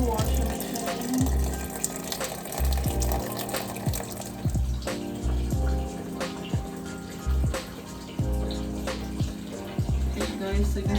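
A portable mini washing machine fills from a hose connected to a kitchen faucet, giving a steady close rush and splash of water, with occasional thumps and clunks from handling nearby.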